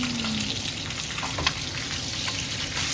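Tilapia fries in hot oil in a home kitchen, a steady close crackle and sizzle with scattered pops, no talking over it.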